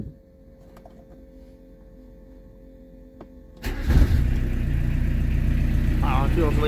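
A Peugeot 205 TD diesel engine cranks and catches after glow-plug preheating, then settles into a loud, steady, rough idle close by, following a quiet lead-in with a faint click.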